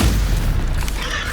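A Stupefy spell impact lands in Hogwarts Legacy, a loud low boom that fills the whole moment as one sustained, rumbling blast with no talk over it.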